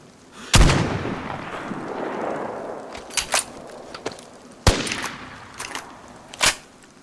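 Gunshots in the survival game DayZ, a loud close blast followed by a trailing rumble, then several sharper scattered shots, with no talk.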